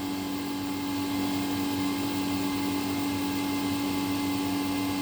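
The vacuum pump of a vacuum impregnation machine runs steadily while broccoli is being impregnated, producing a constant loud droning hum with a strong tonal whine and no pauses.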